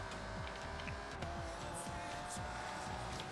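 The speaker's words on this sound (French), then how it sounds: "je vous fais un petit gameplay de la F40 vue intérieure" A Ferrari F40 driven in Forza Horizon 3 from the interior view, a steady loud engine drone with repeated rising and falling gear-shift sweeps and faint tyre noise, continuous throughout.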